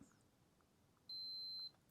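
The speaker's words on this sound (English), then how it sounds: "on the back I've got the other end of my multimeter with the continuity buzzer hooked up" A multimeter's continuity buzzer gives a single clear, steady beep lasting about half a second during wiring checks on a Ford Focus circuit board, sharp against a very quiet background.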